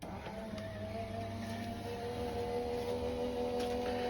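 An A4 die-cutting machine runs a plate through with a steady motor hum and faint whirring tones, plus a few soft clicks, continuous and fairly quiet.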